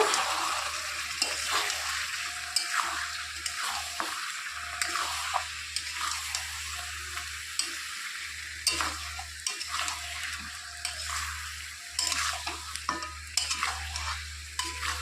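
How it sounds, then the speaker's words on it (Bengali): Goat meat stir-frying in mustard oil with Kashmiri red chili powder over medium gas heat, a steady close sizzle broken by repeated scraping stirs of a spoon against the pan, with no voices. "রেড চিলি পাউডার দিয়ে দিচ্ছি সর্ষের তেল তো এখন ভালো করে সব কিছু কষিয়ে নেব"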